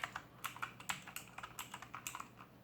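Keys on a Motospeed Inflictor CK104 mechanical keyboard are pressed in a quick uneven run of crisp clicks, close and fairly quiet, with no talking.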